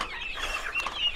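Young turkeys, ducks, a goose and bantam chickens cluck and chatter busily at feeding time, a dense, continuous mix of close bird calls with no talking.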